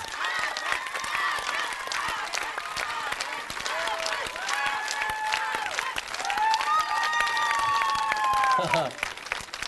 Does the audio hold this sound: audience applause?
yes